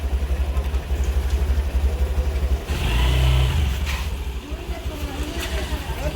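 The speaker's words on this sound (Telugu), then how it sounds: "స్కూటీ తీస్తున్నావా నువ్వు?" A scooter engine runs close by, idling in a pulsing rhythm and then revving up briefly before settling back, with faint background voices.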